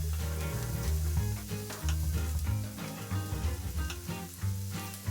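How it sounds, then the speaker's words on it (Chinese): Shrimp sizzle and fry in hot oil in a wok and are stirred with scraping and clinking, a close, continuous crackle. "我们把大虾也直接炒熟。"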